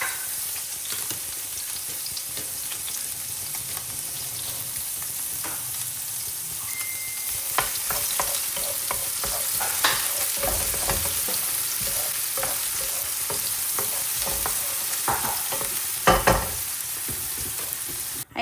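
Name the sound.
onions frying and being stirred in oil for pancit bihon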